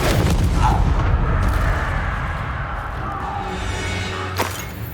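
A Bombarda blast spell from Hogwarts Legacy hits with a loud, deep boom up front, rumbles and crackles as it decays, and is followed by a sharp smaller crack near the end.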